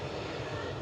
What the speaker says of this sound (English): Thierry's favourite call sign, Shuttle 3 Romeo, is taxiing out.